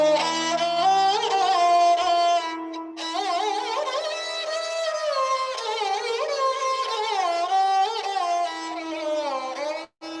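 Solo sarangi plays raga Todi in a continuous bowed melodic line with sliding, ornamented notes over a steady low drone, close and full, with a brief break near three seconds and a short gap near the end.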